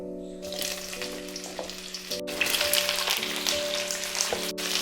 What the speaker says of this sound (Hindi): ऑयल बहुत अच्छे से गर्म हो गया है और अब इसमें डालेंगे हाफ केजी कटहल